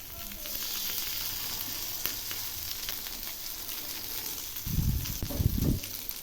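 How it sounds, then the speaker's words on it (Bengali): Stuffed eggplant fries in hot oil with a steady, crackling sizzle, close and moderately loud, and a few low bumps and thuds toward the end as the pieces are moved. "এক পাশ ভাজা হয়ে গেছে"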